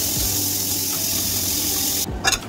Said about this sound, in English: after 8 minutes, we drain and wash it in cold water